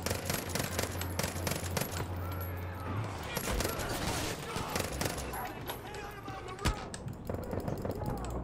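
Rapid gunfire from a new gun in Far Cry New Dawn, dense bursts of shots running throughout under game effects and a talking voice.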